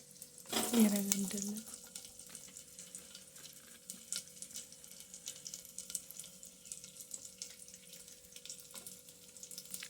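Green chillies, onion, cumin, mustard seeds and curry leaves drop into hot oil in a pan with a loud initial burst of sizzle, settling into a quieter steady crackle and spatter.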